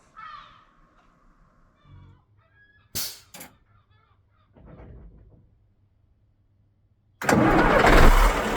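Coach RX-51, a Glastonbury 2024 shuttle, sits quiet with a few sharp clicks and knocks before its engine cranks and roars to life loudly in the final second and a half, nearby.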